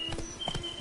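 Roach, a horse in The Witcher 3, gallops with several quick, muffled hoof beats in a steady rhythm, close by, with no talk over it.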